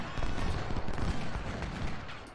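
Massed infantry rifle fire in the Ultimate General: Civil War battle game, a loud, continuous crackle of overlapping musket volleys rolling across the battlefield, with no voices present.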